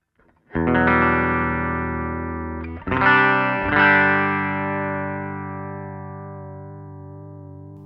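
Electric guitar chords played through a NUX Trident modulation pedal into an amp with a wobbling effect, a sustained chord, then two more strums left to ring and waver.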